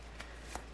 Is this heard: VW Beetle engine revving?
no